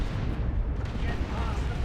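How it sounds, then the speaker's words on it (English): Stick bombs going off in Dawn of War 2: Retribution, a continuous rumbling mass of low explosions and battle noise filling the short moment without a break. "Stick bombs going off, keeping this stuff at bay."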